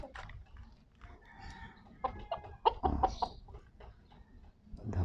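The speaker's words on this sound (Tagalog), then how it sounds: "Meron pang isang manok dito." A rooster in an outdoor Philippine yard gives repeated clucks and short throaty calls, close and moderately loud against faint background noise.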